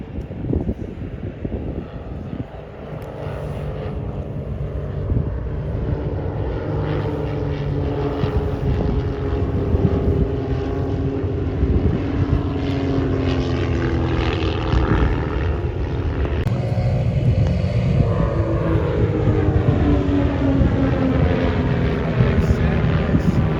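An aerobatic team's main formation of propeller aircraft roars past at the Leszno airshow in Poland during a training day, a loud sustained engine drone that swells and holds with no talk over it.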